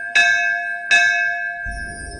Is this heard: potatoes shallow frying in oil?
no